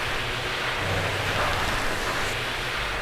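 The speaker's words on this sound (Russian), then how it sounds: "Вода шумит." Water rushes through an underground tunnel near a drop of about five metres, making a steady, loud, broadband roar that fills the whole stretch with no pauses and no voices.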